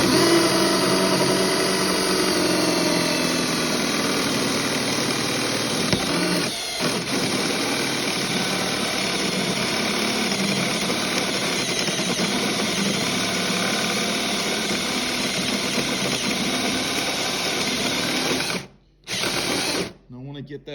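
A power drill bores a soft-close hinge cup hole into a wooden kitchen cabinet door, a steady loud whirring grind running nearly twenty seconds before cutting out in two brief stops at the end.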